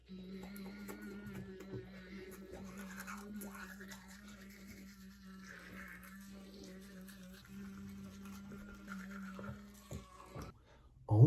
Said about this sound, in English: Let's brush these teeth.